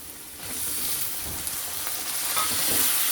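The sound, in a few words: frying tomatoes with curry leaves and green chilies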